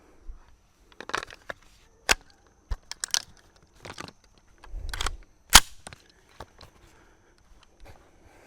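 Rifle shots of CCI Velocitor rounds fired into a ballistic gel block, several sharp isolated cracks spaced a second or so apart, with handling clicks and thuds in between and no talking.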